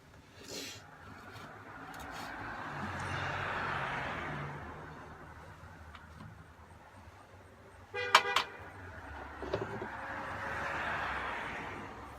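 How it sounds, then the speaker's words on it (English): Busy road traffic in front of a house: steady passing cars swell and fade, with a couple of short car horn toots in the middle. "Sorry about the traffic noise."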